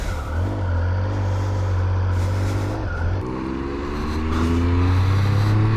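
Triumph Speed Triple 1200 RS naked motorcycle engine, a steady deep idle rumble that briefly drops off and then rises again into a loud, close throttle rev with climbing tone, no talking.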